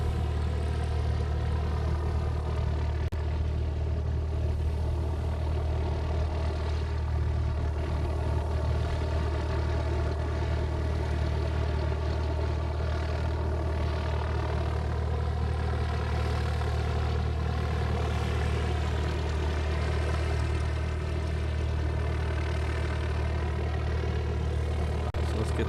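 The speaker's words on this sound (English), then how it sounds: "This thing making a lot of noise is this plane right here." A Southwest airliner's engines drone steadily at an airport in Hawaii before departure, a heavy low rumble with a whining hum held constant for nearly half a minute, fairly close and with no talking.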